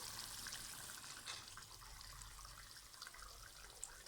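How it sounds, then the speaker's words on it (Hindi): Water being poured into a simmering chicken and pea curry as it cooks, a faint steady trickle and wash of liquid with no talking. "थोड़ा सा पानी डाल के इसको हम दम पर लगाएंगे"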